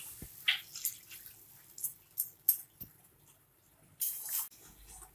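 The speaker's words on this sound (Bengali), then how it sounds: "চিকেনে জল দিয়ে যে কর্নফ্লাওয়ারটা গুলে রেখেছিলাম সেটা আমি এর মধ্যে দিয়ে দিচ্ছি।" Cornflour and water slurry poured into chicken in a pan: faint, scattered liquid splashes and drips, with a short louder gush near the end, close and quiet.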